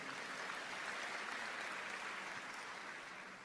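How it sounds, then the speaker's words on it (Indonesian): Applause from a church congregation during a sermon, a steady dense wash of clapping that holds evenly throughout and fades slightly at the end, with no voices over it. "Yang setuju berikan tepuk tangan yang meriah."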